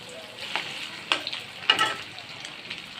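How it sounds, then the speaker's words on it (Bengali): Shrimp frying in a wok, a steady soft sizzle with a few brief louder crackles and spatters scattered through, fairly close and without any talking. "কড়াইতে আমি প্রথমে চিংড়ি মাছগুলো আমি ভেজে দিব"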